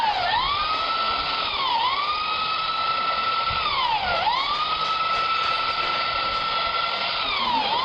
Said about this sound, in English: Eva having fun with the sander.